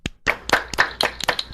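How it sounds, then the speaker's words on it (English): Gentle applause at a meeting: a handful of separate, crisp hand claps in an uneven rhythm, close and fairly loud, each one distinct rather than a blended crowd sound. "Gentle applause greeted this statement."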